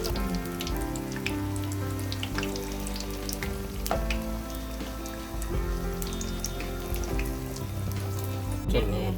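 Batter-dipped bajji fritters frying in hot oil, a continuous crackling sizzle with scattered pops heard under prominent background music.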